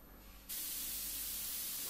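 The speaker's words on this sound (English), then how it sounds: "Now just spraying on the table first." Iwata Revolution M single-action airbrush spraying paint onto a table: a short soft hiss, then the spray opens into a loud, steady, broadband rush of air and atomised paint that holds unbroken to the end.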